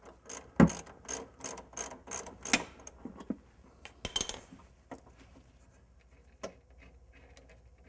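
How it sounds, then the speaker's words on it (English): A ratchet wrench clicks in quick runs and then in slower turns on the rear shock absorber fasteners of a van, with metallic clanks from parts in between, close by in a quiet shop. "We can go and take the fasteners off, take the shock off"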